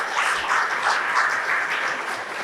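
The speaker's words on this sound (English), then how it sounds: "Thank you for the applause, but please." Brief audience applause at a panel event on media and peace, a soft even wash of clapping held steady for a couple of seconds with no speech over it.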